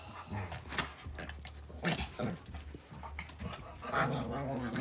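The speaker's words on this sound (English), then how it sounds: "These puppies are, it's a battle." Puppies scuffle and growl in a play fight, a steady muffled rumble of small growls and jostling with a jangle of keys, fairly close but not loud.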